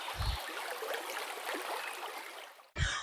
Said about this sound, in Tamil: இதோ ஓடுது பாத்தீங்களா இந்த தண்ணி